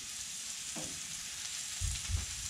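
A steak searing on a hot griddle gives a steady, fairly quiet sizzle, with a few low thumps and shifts near the end as the meat settles; no talking.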